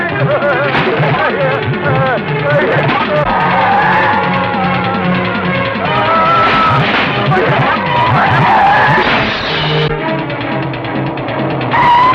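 A car is driven hard and skids in a Tamil comedy film scene, with squealing, wavering tire noise running steadily under voices and sung lines.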